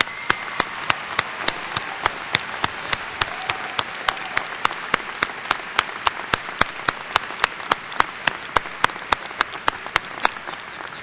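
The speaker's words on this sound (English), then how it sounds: "Let's give them the applause." An audience applauds graduates at a 2004 graduation ceremony, a steady sustained clapping that fills the hall at even loudness, with a regular sharp click ticking through it.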